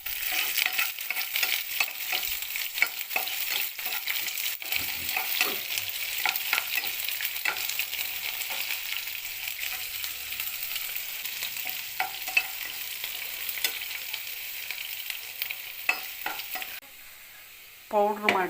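Garlic and curry leaves frying in hot oil with mustard seeds for a mango pickle tempering: continuous crackling sizzle with scattered pops and stirring scrapes, steady and close, easing near the end as something is added.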